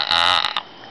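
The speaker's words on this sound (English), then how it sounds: "She burps this bad now." A woman lets out a single loud, close burp lasting about half a second, with a short rasp at the end.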